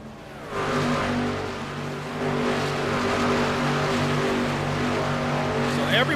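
A race truck in the Lonestar Racing Truck Series at Las Vegas pulls away from its pit stall after a fuel-only stop, its engine droning loud and steady with a rising harmonic tone as it accelerates, close and continuous throughout.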